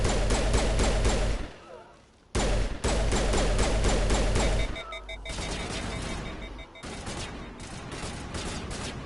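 Gunfire in the video game Mass Effect Legendary Edition rattles in rapid, sustained bursts, loud and close, with a brief lull early on and then a slightly softer stretch of continued shooting.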